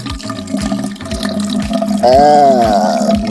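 Vinegar pours and splashes steadily out of a jar into a vessel, with a gurgling rise in pitch toward the end as it fills.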